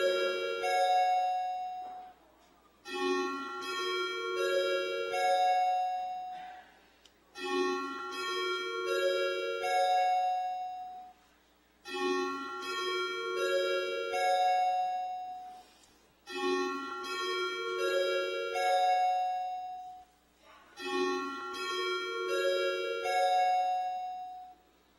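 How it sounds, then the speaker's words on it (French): Electric bells ring in a municipal council chamber to call a roll-call vote, sounding as repeated bright two-tone chime bursts in a steady cycle, about six rounds spaced a few seconds apart, loud and alone with no talk. "on va faire sonner les cloches et ouvrir les portes"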